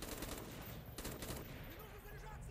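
Bursts of automatic gunfire rattle in Call of Duty: Black Ops, with quick, dense shots coming fairly close. The sound is faint overall and a voice talks at low level underneath.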